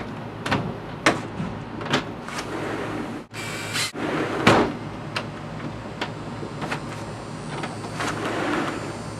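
Sliding glass door being slid along its track and locked with a newly fitted clasp, giving a series of sharp clicks and rattling knocks, a louder thump partway through, then steady sliding rumble nearby with no talking.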